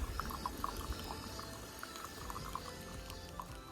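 Coffee trickles and gurgles as it is poured at a winter campsite during a night off-road trip, a soft steady liquid pour with small splashes, close and quiet against a low background rumble.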